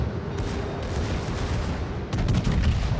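Heavy naval guns of the battleship Bismarck boom in a warship video game, a steady low rumble of gunfire then a louder cluster of blasts near the end, with no voices.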